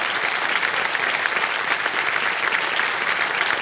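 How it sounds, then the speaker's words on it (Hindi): A studio audience on the KBC quiz show claps for a contestant, a thick, even burst of applause that stays close and loud throughout. "तालियां बज जाए इनके लिए"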